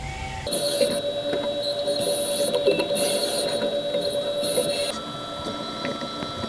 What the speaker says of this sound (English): This is the 440 thread mill